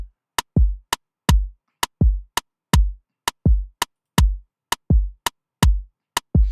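A simple, straight Afrobeat drum pattern with no swing, built on a Haitian boost kick and kit: booming kicks with long low tails alternate with sharp, crisp hits in a steady bouncing rhythm, dry and alone.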